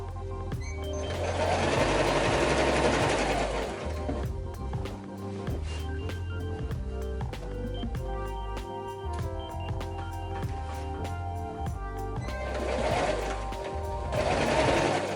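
A sewing machine stitches thick denim while jeans are turned into a skirt, its needle running in steady, rapid bursts that speed up and slow down, close and clear with no voices.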